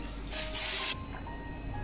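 Hot water poured into a pan of chicken frying in oil sends up a sharp hiss and sizzle that swells for under a second, then settles into a quieter simmer.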